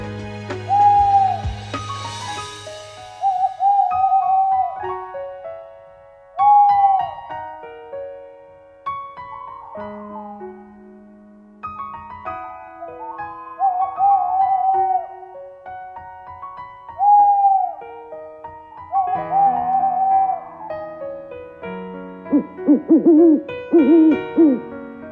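An owl hoots in a repeated series of clear, tonal calls with pauses between them, loud and close, the notes spaced unevenly across the whole stretch with no talk.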